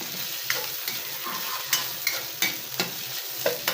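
Chicken inasal sizzles steadily in a hot pan, a constant bright frying hiss broken by sharp pops and short scraping stirs at irregular intervals, close and with no voices.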